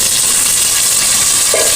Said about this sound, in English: Next, we add in the pre-mixed rice.